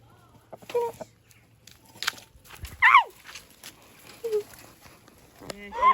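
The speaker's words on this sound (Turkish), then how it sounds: "Bunlar köyümüzün tavukları. horozları." Village chickens and roosters around a rural home, heard as a few short, separate clucks and calls close by, with quiet gaps between them and a louder call near the end.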